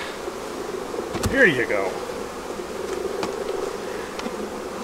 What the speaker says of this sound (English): I've got bees right there trying to sting my nose